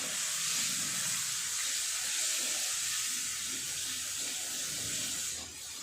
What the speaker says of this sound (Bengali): একটু জল দিয়ে দেবো, তাহলে আর নিচে লেগে যাবে না।